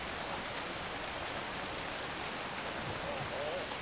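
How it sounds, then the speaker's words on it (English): Steady rain pours in the survival video game Atlas, an even, unbroken hiss of falling drops that fills the scene at moderate loudness with no voice over it. "So I have to wait till it stops raining before I head out."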